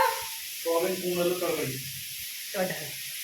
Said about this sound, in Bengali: আজকে রান্না করছি আমি সোয়াবিন কুমড়োর তরকারি